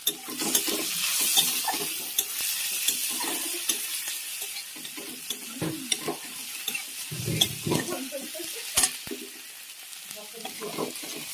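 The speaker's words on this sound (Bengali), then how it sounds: "কড়াইয়ে তেল দিয়ে গোটা জিরে, তেজপাতা, কারি পাতা একটু ঝিঙে দিলাম" Whole cumin, bay leaves and curry leaves fry in hot oil in a wok, a bright continuous sizzle broken by scraping stirs and occasional clinks of the utensil against the pan.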